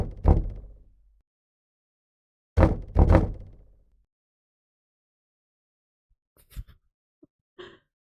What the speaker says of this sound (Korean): 그게 무엇이든 간에 바로 밖에서 문을 두드린다.